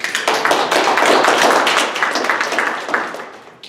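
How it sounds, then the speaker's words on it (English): An audience at a monthly business group event gives a round of applause, a close burst of many hands clapping that builds quickly, holds, then tapers off. "Give a round of applause"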